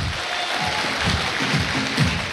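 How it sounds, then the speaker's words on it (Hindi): Crowd applause at a Hindi motivational talk, a brief burst of dense, steady clapping from the audience. "उनके लिए जोरदार ताली बजानी चाहिए"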